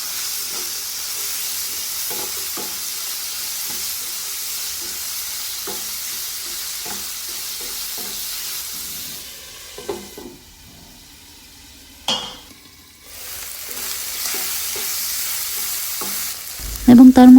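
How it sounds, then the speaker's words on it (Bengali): Diced potatoes being stirred and sautéed in a pan for a dried fish curry with Malabar spinach, a steady sizzle with repeated scraping strokes, a brief quieter pause midway, then frying resumes loudly; no talking. "আলু নেড়ে চেড়ে আমরা ভালোভাবে কষিয়ে নেব।"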